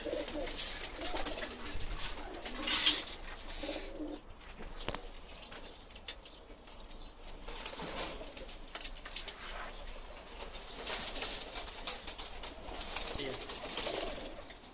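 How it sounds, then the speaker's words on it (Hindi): Pakistani pigeons, including a black high-flying racing pigeon, coo softly and repeatedly amid light chirps, with a few bursts of wing flapping and faint background noise throughout. "काला पहाड़ कबूतर है, बहुत सी बाजियों में उड़ चुका है।"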